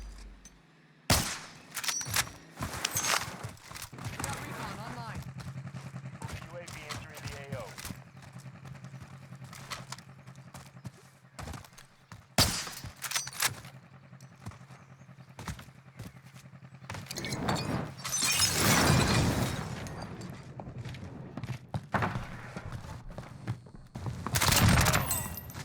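Swiss K31 sniper rifle fired in Modern Warfare Warzone, with a series of sharp, loud shots scattered across a busy battle soundscape and bursts of distant gunfire.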